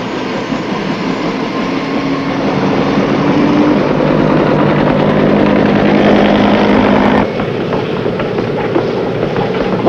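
Army helicopters flying over a Navy amphibious assault ship at sea, a loud continuous engine and rotor roar that holds steady for most of the stretch, then drops slightly in level near the end.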